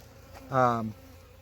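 A single Italian honeybee buzzes briefly and close by during a hive inspection, a short droning hum under a quiet background.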